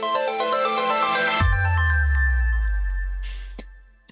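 A short bright jingle for a lightning news segment: chiming ringtone-like notes give way to a deep falling electronic swell, then a lone ding and a final tick, loud and alone.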